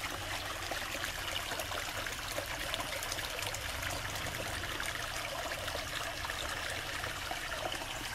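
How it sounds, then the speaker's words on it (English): A small, low-running stream flowing over rocks, a continuous, even rushing and trickling wash with no pauses, steady and moderately faint, heard alone without talk. "The stream carries on down that way."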